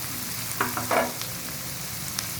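Green chilies fry in a pan for chicken pasta, giving a steady close sizzle with a few short scraping stirs and clinks near the middle and one light tap near the end.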